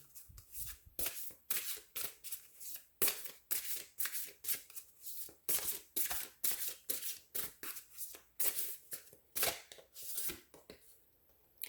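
A deck of tarot cards is shuffled and cards are drawn, giving a rapid, steady series of crisp riffling and slapping bursts close to the listener, with no talk.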